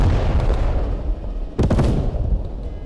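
Loud, rumbling booms and sharp blasts of incoming artillery fire in the video game Post Scriptum roll through a noisy, chaotic scene, with one especially heavy burst standing out.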